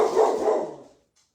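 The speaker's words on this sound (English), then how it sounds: "You'll have to excuse my dog. Lately he likes to bark a lot." A house dog gives a couple of quick, loud barks nearby that die away into silence.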